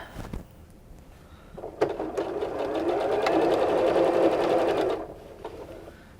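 Sewing machine stitching a Christmas stocking runs in one steady, close burst of a few seconds, after some handling clicks and before slowing to a stop.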